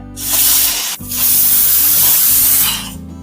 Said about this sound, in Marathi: कुकरच्या तीन शिटा करून घेतल्या आहेत